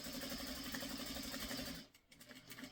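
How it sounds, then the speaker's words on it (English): A sewing machine stitching fabric pieces together for a quilt, a steady close mechanical whir that runs evenly and then stops abruptly near the end. "And you want to sew all the way to the corner."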